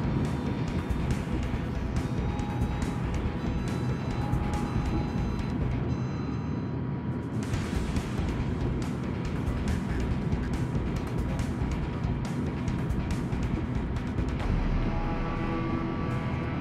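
Steady, loud engine drone of a warship under boost in a naval combat game, a dense continuous rumble with rushing water-like wash, no voices, holding evenly throughout.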